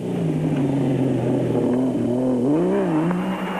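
A 4-litre Ford Ranger off-road race truck accelerates hard, its engine note climbing and wavering in pitch as it revs through the gears, loud and close with no voices over it.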